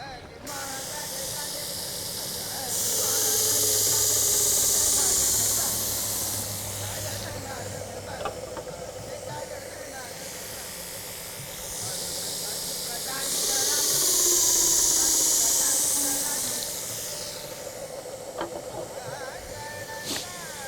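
A blade, a Shastar, is sharpened on a belt grinder with a J-Flex 220 grit belt, giving two loud, sustained hissing grinding passes separated by quieter pauses, with a person talking faintly in between.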